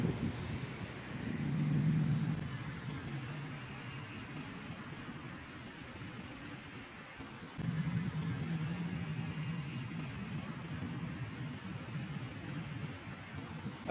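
Soft, light cool wind after rain rustles steadily against the microphone as a low, faint wash of noise, with a slight gust swelling near the start and no talking.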